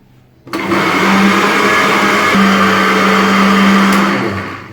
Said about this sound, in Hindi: इसे हमने उस वक्त तक ब्लेंड करना है ये डबल हो जाए